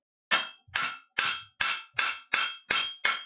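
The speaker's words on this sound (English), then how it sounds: "Basically, at this point, just planishing it up." A hammer planishes forged metal after a forge weld: eight sharp, ringing blows land close by in a steady rhythm about every 0.4 seconds, with no talking.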